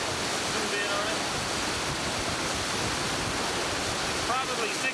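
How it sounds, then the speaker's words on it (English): Water flows supercritical out the bottom of a dam gate at the Freeman Diversion, a loud, steady broadband roar of rushing water that runs without a break for the whole five seconds. "Now we're flowing supercritical out the bottom of this gate, of course. It's a little noisy."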